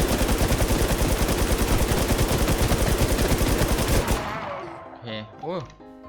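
Rapid automatic gunfire in the video game Warz JapanZ, a loud, steady stream of shots that lasts about four seconds, then cuts off, followed by someone talking briefly.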